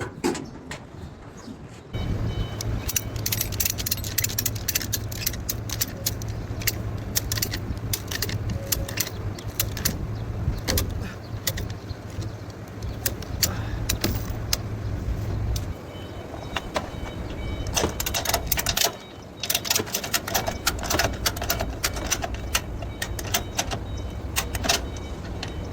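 Load belts on a truck are tightened by hand after rain, with ratchet boxes stiff from water, giving scattered metallic clicks and rattles over a steady low hum, close by with no talking.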